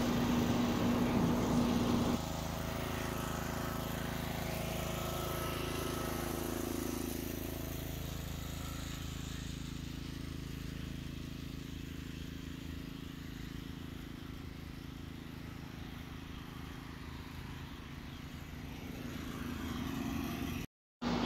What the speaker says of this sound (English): I was just having fun with this mower